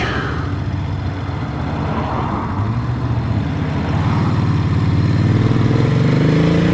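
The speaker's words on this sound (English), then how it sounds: "All of a sudden we've got lots and lots of traffic." Road traffic passes near a parked classic Moto Morini 3 1/2 motorcycle: engine noise rises as vehicles approach, and droning tones climb in pitch as they grow louder.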